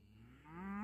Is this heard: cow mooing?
yes